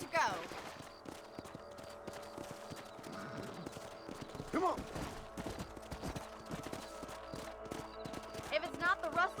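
In the Red Dead Redemption video game, a ridden horse's hooves clip-clop in a steady trotting rhythm, joined by a brief whinny and distant shots, with a voice speaking briefly over it.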